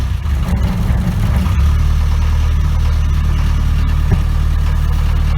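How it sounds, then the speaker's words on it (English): A steady, rumbling diesel engine of an old Land Rover idles close by, loud and continuous with a rough low throb throughout. "Very noisy old Land Rover."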